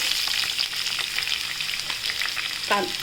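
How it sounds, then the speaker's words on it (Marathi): Onions sauté in a pan for green masala poha, giving a steady close sizzle with soft stirring scrapes throughout. "कांदे परतून घेऊया चांगले"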